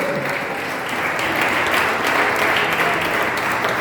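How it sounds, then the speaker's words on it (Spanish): Congregation in a church claps in dense, loud, sustained applause throughout the short stretch, with no talking over it. "Pero bien fuerte ese aplauso para el nombre de Él."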